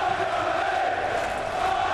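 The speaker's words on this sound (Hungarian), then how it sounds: "Közönség már rákezd a buzdításra." A big darts crowd at a PDC Premier League night in Belfast chants encouragement, a dense, steady roar of many voices that holds at the same loudness throughout.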